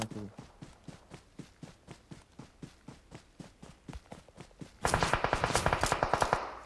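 Rapid automatic gunfire in PUBG Mobile, a steady train of sharp shots that swells into a louder, denser burst of close fire near the end.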